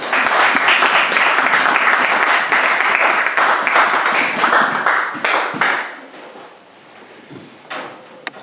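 A church congregation claps together loudly and steadily for several seconds, the dense applause then thinning out and fading to a few scattered claps.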